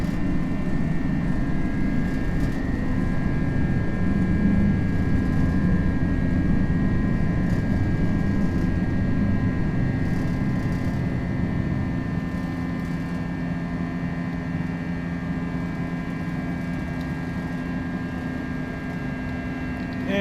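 Steady jet engine roar from an FSLabs Airbus A321 taking off from Sydney in the Prepar3D flight simulator, a constant loud rumble with a whining tone that eases slightly toward the end.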